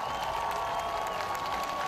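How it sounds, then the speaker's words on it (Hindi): A crowd applauds steadily and evenly, with no pauses and a faint wash of cheering, while a speech by Ukraine's President Zelensky plays on a big screen. "बीच में लोग तालियां बजाते भी दिखे।"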